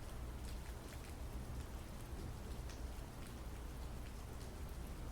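Steady rain pours down in a knife-sharpening video game, a dense, even hiss with scattered drop patter running unbroken throughout, with no talk over it.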